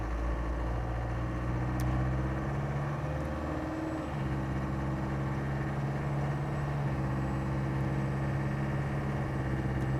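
A 1996 Land Rover Defender 110 with a 300 TDI diesel engine and automatic gearbox idles and pulls away, a steady low rumbling drone heard from inside the cab, with no talking.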